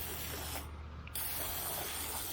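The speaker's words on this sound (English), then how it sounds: "I'm gonna try to spray some of that off." A steady, close hiss of water spraying from a 12-volt pump hose during a roof wash runs throughout, briefly thinning for a moment before resuming at full strength.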